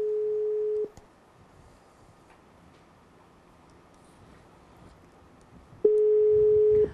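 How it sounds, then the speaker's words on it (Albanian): A telephone ringing tone sounds during a live evening television broadcast, one steady tone that stops abruptly, a long quiet gap with faint room noise, then the tone starting again near the end. "Po bie zilja."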